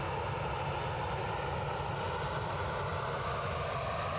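A Ryanair airliner departing Edinburgh Airport, its engines a steady, broad roar that fills the whole stretch without letting up, heard from a distance with no voices.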